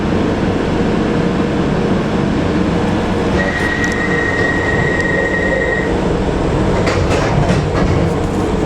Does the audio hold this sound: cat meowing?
no